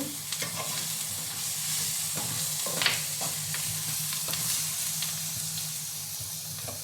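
Spices, cinnamon, clove powder, cardamom and kasuri methi, being stirred into chicken fry in a pan, with a continuous sizzle under repeated scraping strokes of a spoon against the pan.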